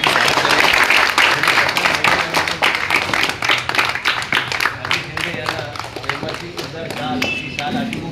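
A crowd claps loudly at a tournament prize distribution, the dense applause strongest at first and gradually thinning into scattered claps, with a voice talking over it.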